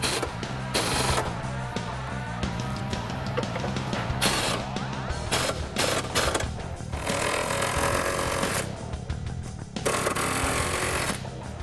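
Bolts on a 2015-2023 Ford Mustang subframe are tightened with a power tool in a garage, giving loud repeated bursts of rattling impact hammering separated by short pauses.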